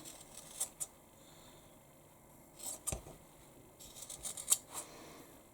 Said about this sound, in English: So all we need to do now is to trim the corners